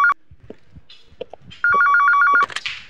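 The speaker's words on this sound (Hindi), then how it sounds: "एसीपी साहब का फोन।" A telephone rings with a bright, trilling electronic burst, then a longer run of rapid repeated tones, preceded by faint footsteps and small room sounds.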